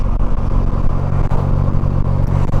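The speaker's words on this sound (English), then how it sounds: "so you listen to the engine and see how it sounds" A Polaris Slingshot engine runs steadily after a shift into fifth gear, a loud, close, continuous low rumble with faint clatter and no talking.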